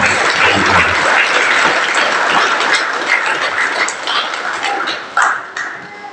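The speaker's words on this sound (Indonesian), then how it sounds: "bapak-bapak tepuk tangan untuk semua kaum perempuan" Loud, sustained clapping from a church congregation honoring women at a GIDI Klasis Timika women's anniversary celebration, dense and continuous, tapering slightly toward the end with a few sharper claps.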